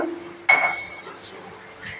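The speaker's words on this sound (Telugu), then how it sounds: "ఒక గిన్నె పెట్టుకొని" A metal pot is set down on a stove with a single sharp clank, close and clear, followed by a faint ringing and low room noise.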